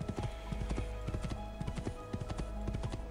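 Quick, even hoofbeats of a galloping horse on rocks in Assassin's Creed II, loud and close, clattering continuously over a low humming game soundscape.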